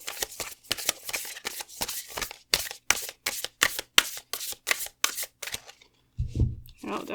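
Oracle cards being shuffled by hand in a rapid run of crisp, papery riffles and slaps, about a dozen quick bursts close to the microphone, ending with a brief low thump and softer handling noise.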